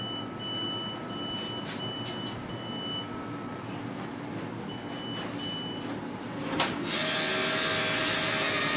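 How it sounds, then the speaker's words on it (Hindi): A Xerox office printer feeds and prints an envelope through its bypass tray, with a steady mechanical whir, a few short electronic beeps early on, and a louder, busier run of motor noise near the end. "अब हम करेंगे इसे प्रिंट"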